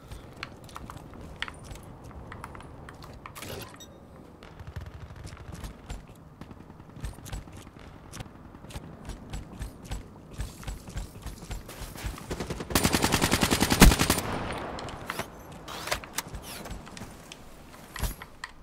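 Gunfire crackles in Call of Duty Black Ops 3 on Xbox One, with scattered single shots throughout and a dense, louder automatic burst in the middle, set against quiet game ambience.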